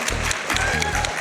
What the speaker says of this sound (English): Can we get some claps from the audience for the Ox?